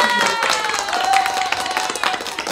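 Quick hand clapping with excited voices and a thin tonal sound running through, fairly close and lively, in the video game Mother Simulator.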